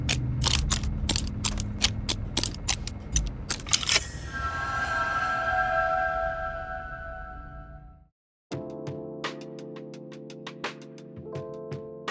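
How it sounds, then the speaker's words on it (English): Rapid mechanical clicks and ratcheting from a padlock mechanism in the video game Workaholic Simulator, then a brief silence and a metallic, ringing clunk as it releases, with no one talking. "Using the computer or unlocking a padlock are some of the gameplay phases"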